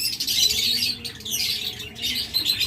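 A double factor breeding pair of pet birds, settled in a completed nest, chirps and tweets in quick high bursts that come and go over a continuous chattering background, close and fairly loud, with no talking.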